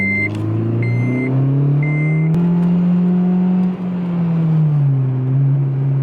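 A car with a Skunk2 Megapower RR aftermarket exhaust revs up through the gears with a deep, throaty exhaust note that rises and falls, close and loud, with a faint whine above.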